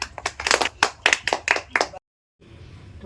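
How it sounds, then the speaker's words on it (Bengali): Children at a poetry recitation competition clap in short bursts of brisk, near, rhythmic hand claps for about two seconds, then a cut to quiet room noise. "হাততালি, হাততালি"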